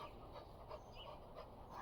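A dog pants close by in quick, rhythmic bursts of breath, soft and steady for about two seconds, with no one talking.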